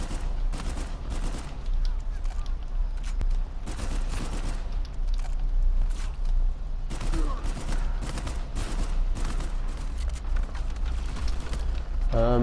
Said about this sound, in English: You see there, they drop, and from there you would shoot them.